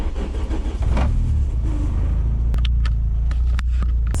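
A freshly built semi-forged 3.0 engine idles roughly on its first start, a loud, close, low rumble with uneven revs and sharp clicks and clacks breaking through in the second half.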